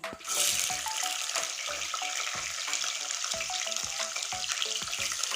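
Whole garlic cloves fry in hot oil with masala for a chicken curry, a steady close sizzle with crackling spatters and light scraping throughout.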